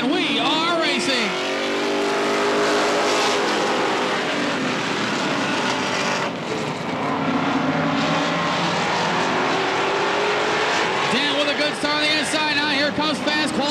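Race cars roar around the Tri City Motor Speedway oval as the green flag drops, a loud continuous engine drone with rising and falling pitches as cars pass, under steady announcer talk.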